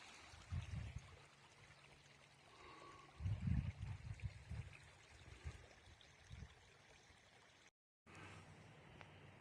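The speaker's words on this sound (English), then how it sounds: "Water's flowing through here." Floodwater rushes across a road after record rainfall, a soft continuous flowing wash with low gusty rumbles and a brief dropout near the end.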